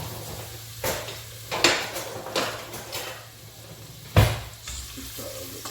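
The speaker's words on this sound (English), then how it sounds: "You know when you hear that sizzling." Sweet potato crackles and sizzles in hot oil, broken by several sharp clinks and scrapes of a pan being handled.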